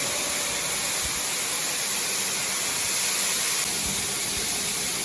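Shelled corn pours steadily into a new Sioux Steel grain bin, a continuous broadband rushing hiss with a faint machine hum beneath, even and unbroken with no talking.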